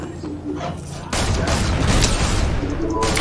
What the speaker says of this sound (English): I'm shooting the person that was maybe shooting at me